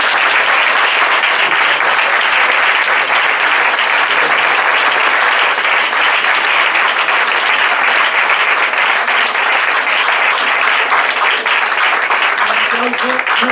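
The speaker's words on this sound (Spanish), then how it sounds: "y un aplauso para todos" A crowd applauds steadily and loudly, dense clapping that holds at an even level throughout.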